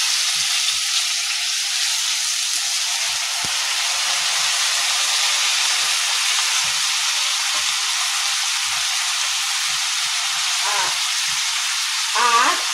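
Finely chopped onions frying in a pan for a Mithila-style egg curry, a loud, steady sizzle that keeps going with faint stirring scrapes and clinks beneath it.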